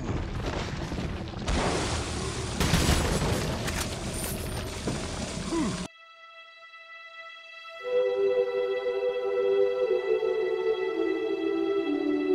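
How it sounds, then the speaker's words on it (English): A grenade or dynamite blast in Resident Evil 4 makes a dense, loud roar that rumbles for several seconds and then cuts off abruptly. A short silence follows, then sustained tonal game music. "He threw a grenade, a dynamite in here."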